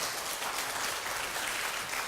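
Steady crowd applause from an audience at a children's composer recital in Uijeongbu, a dense continuous wash of clapping with no voices.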